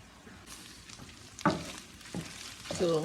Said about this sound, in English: So basically I'm frying the beef.